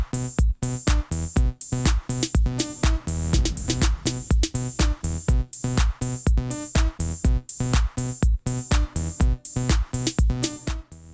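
A New Beat track plays: a basic, steady, pounding kick-and-percussion groove with a thin, squelchy acid synth line riding on top, loud and continuous throughout.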